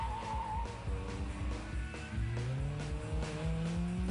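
A Ferrari Scuderia supercar is driven hard around a tight course, its engine note rising and falling through the gears with tire squeal on the turns, steady and fairly distant, with no talk.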